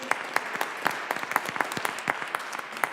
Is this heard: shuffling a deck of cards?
no